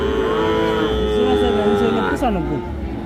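Cross-breed calves low with a long, wavering moo at a rural cattle market, loud and close, with a second overlapping call near the end over a busy crowd murmur.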